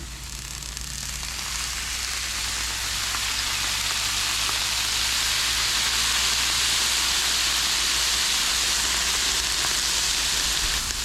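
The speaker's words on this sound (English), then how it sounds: "I'm going to go ahead and add a little water just for steam." Steady, loud hiss and sizzle of water steaming asparagus in a hot pan, continuous throughout with no talking.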